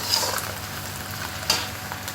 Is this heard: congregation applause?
no